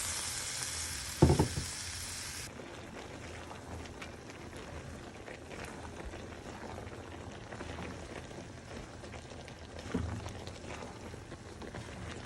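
Broth going into a pot of mixed vegetables as they cook, with a continuous sizzling hiss, a short pouring splash near the start and later stirring knocks.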